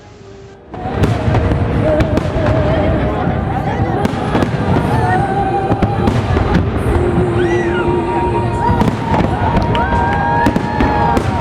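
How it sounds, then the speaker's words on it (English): A Fourth of July fireworks display in Boston bursts and crackles almost continuously, with loud booms and sharp pops layered over a cheering crowd and chatter. "It was one of, if not the best, fireworks displays I've seen."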